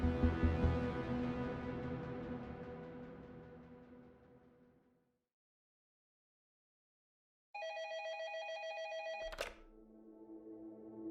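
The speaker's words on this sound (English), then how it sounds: "his phone rang" A telephone rings with a resonant, bell-like tone that slowly fades to silence. After a pause a second ring sounds and is cut off by a sharp thunk, as if the receiver were lifted.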